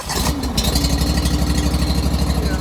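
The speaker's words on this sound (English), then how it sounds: "I'm gonna start the engine up and then I'll show you where it's leaking from." The engine of a Japa firewood processor running at a steady idle, a loud, close, even mechanical rumble with a rapid regular pulse throughout and no talking.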